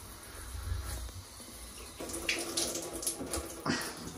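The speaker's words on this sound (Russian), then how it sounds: "Душ еле работает." A weak hotel shower trickling and sputtering, faint and uneven, with the flow picking up slightly about halfway through.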